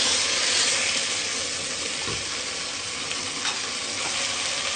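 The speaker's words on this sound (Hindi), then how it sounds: "अब हम इसको अच्छे से भूनेंगे।" Chicken korma frying in a pan with red chilli powder, salt and korma masala gives a steady, close, loud sizzle, with a few soft stirring knocks underneath.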